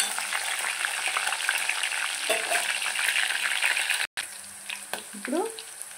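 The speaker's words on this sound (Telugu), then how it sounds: "ఆయిల్ వేడైంది. ఆవాలు, జీలకర్ర, పచ్చిమిర్చి" Mustard seeds, cumin and green chilies frying in hot oil, a dense crackling sizzle that breaks off briefly and resumes with a few rising squeaky scrapes, close and loud.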